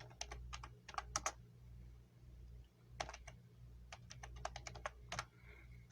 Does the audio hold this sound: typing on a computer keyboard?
yes